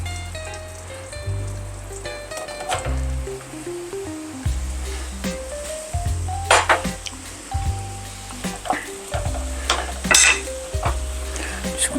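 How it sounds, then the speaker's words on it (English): Cremini mushrooms cook down in a pan for coq au vin, with a soft sizzle and repeated stirring scrapes and utensil clinks, all under steady background music. "First, I want to cook down the mushrooms."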